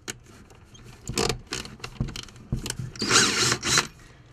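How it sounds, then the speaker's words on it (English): A power drill drilling into a car bracket near the windscreen whirs in short, uneven bursts, revving up and cutting out several times, with a longer, harsher grinding run near the end. "just let the drill do the work"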